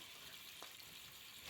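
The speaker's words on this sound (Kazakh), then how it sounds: "Кейін оған турап қойған картошкамызды саламыз." Chopped potatoes fry in a preheated pan, giving a soft, continuous sizzle with faint crackles and no voices.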